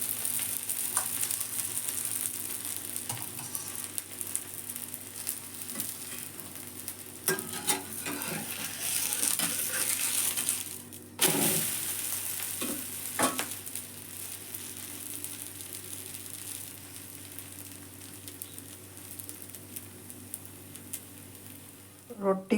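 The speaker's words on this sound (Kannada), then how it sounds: "ಸ್ವಲ್ಪ ಎಣ್ಣೆ ಹಾಕ್ತಾಯಿದ್ದೀನಿ." Oil sizzles steadily in a pan while masala roti cooks, a dense continuous frying hiss with occasional stirring scrapes and brief louder bursts, close and with no speech.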